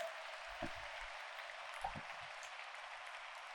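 Faint, steady applause from an audience at a school gurukul event in Surendranagar, a soft continuous patter of clapping heard from a distance and lasting a few seconds.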